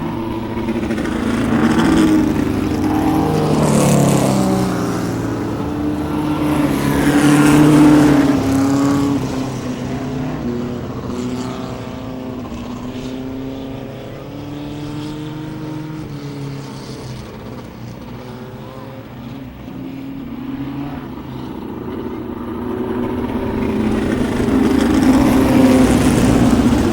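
Dirt-track race cars roar around the Whittemore track in a four-car dash, engines revving and swelling as they pass, fading and building again over about half a minute of steady, loud racing noise.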